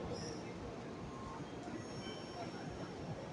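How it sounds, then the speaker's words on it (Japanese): A Shinkansen bullet train, the Kodama 711 bound for Shin Osaka, rumbles into a station platform with broad rolling rail noise and faint wheel squeal, moderately loud and continuous over a short stretch. "Arriving train is Kodama 711 bound for Shin Osaka."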